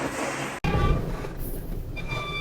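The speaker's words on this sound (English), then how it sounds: "I think we made it to the right train." Steady loud rumble of a train riding along its rails, heard from inside a carriage, with a brief dropout early on and faint wheel squeal and whistling tones above the continuous noise.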